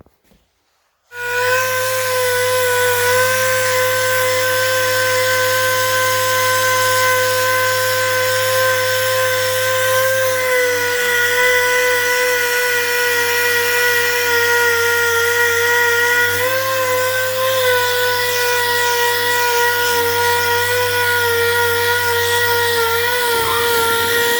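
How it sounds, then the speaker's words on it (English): An oscillating sander runs continuously on a sheet metal weld, smoothing grinding scratches with a loud, steady high-pitched whine and buzz after a brief start-up, and no talking. "I'm going to run over this with the oscillator"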